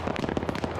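An anti-tank weapon fires in the war game Arma 3, a short burst of rapid crackling blasts packed into under a second, loud and close.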